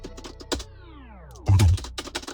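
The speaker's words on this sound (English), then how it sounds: "You can hear me typing." Computer keyboard keys clack in quick bursts, close and crisp, with a heavier thump of a key press midway and a gliding synthetic tone sweeping down underneath.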